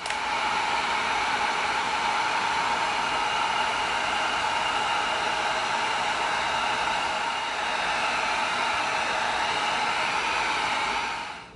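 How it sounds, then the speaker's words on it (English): A heat gun blasts hot air to heat-seal EVA foam, giving a loud, continuous, even hiss and whoosh that runs steadily throughout with no talking. "Now let's seal it. Okay, now when we heat seal it"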